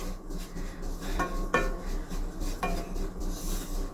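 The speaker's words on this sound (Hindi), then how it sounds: "लो टू मीडियम रखेंगे और इसे चलाते हुए भूनेंगे।" A spoon scrapes and clinks against a pan while a mango and coconut mixture for barfi is stirred and roasted over low-to-medium heat. A few distinct scrapes sit over a low steady hum, close up and with no talking.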